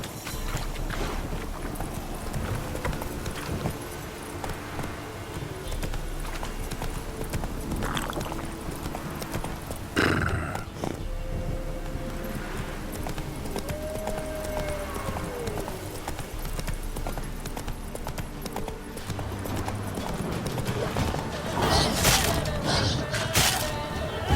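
Roach, a horse in The Witcher 3, moves at a steady gait with rhythmic hoofbeats over wind and ambient game sound, with a sharp crack partway through and louder hooves near the end.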